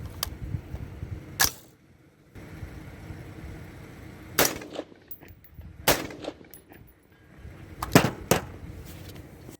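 Cheap .223 AR-style upper firing, several sharp, loud gunshots spaced a second or two apart, each a sudden crack with quick decay over quiet outdoor background.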